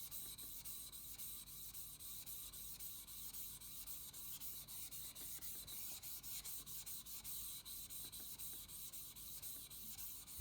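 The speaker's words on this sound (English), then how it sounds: "take the 1000 grit stone out and lay the blade flat on the stone, and then hone the whole back," A violin maker's chisel blade held flat on a 1000 grit sharpening stone while its back is honed, making a quiet, steady back-and-forth grinding rub that continues without pause.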